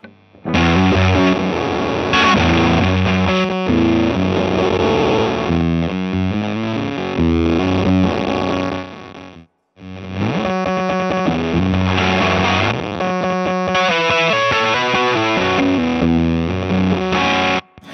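Electric guitar played through a Fjord Fuzz fuzz pedal, thick saturated distortion chugging chords and riffs loud and close for most of the clip, with a brief cutout near the middle before the heavy fuzzed playing resumes.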